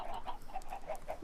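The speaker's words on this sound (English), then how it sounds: "So as you can hear, the chickens are down in these 2 blocks." Blocky video game chickens clucking in a rapid, regular series of short calls, close and fairly loud, with no talking over them.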